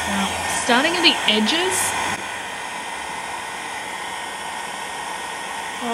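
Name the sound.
heat gun drying alcohol ink on yupo paper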